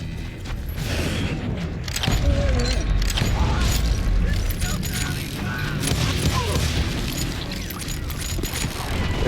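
Gunfire in the western shooter Call of Juarez Gunslinger, loud sharp shots and booming impacts scattered across a busy game soundtrack, with someone talking over it.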